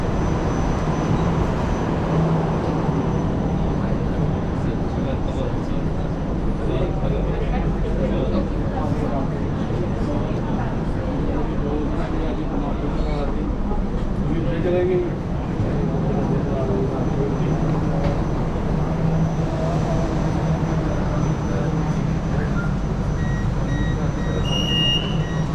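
An underground LRT train at Merdeka station in Malaysia, with a steady low rumble, faint intermittent beeps and station noise throughout, under continuous nearby talk.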